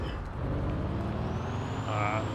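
Car engine in GTA roleplay running steadily at speed, a continuous loud rumble with a brief rising tone near the end, no talk over it.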